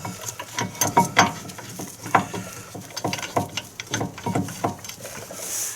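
A hand ratchet tightening 18 mm brake caliper bolts on a 2014 GMC Sierra / Chevy Silverado front brake, rapid clicking pawl bursts in uneven runs, close and clear with no voices.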